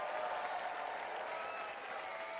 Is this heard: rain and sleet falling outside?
no